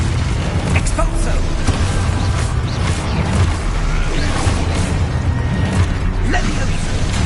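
Spell blasts and magical explosions from Hogwarts Legacy combat, a dense, loud barrage of booms, crashes and bursts running continuously with game noise underneath.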